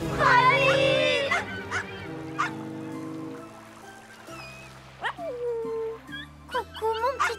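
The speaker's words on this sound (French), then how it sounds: "Coucou mon petit toutou d'amour. Tes pleurs me fendent le cœur." A small cartoon dog whimpers and cries in thin, high wavering whines, several short plaintive cries over animated music with a character voice talking.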